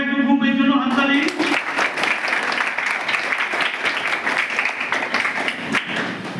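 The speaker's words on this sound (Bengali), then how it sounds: "সবাই একটু গ্রুপের জন্য হাততালি" Students at a school road-safety week event break into dense, sustained applause for a group, loud and close clapping filling the room after a short tonal sound at the start.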